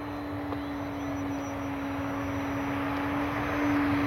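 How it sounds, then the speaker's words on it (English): A radio-controlled airplane running full speed on a 3S battery passes by with a steady, continuous motor whine that swells slightly toward the end, heard alone without talk. "We can get a good look at her as she flies by."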